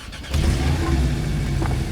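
Porsche Boxster 718T convertible from 2020, its engine running with a loud, steady low rumble close by, roof mechanism noises faint beneath.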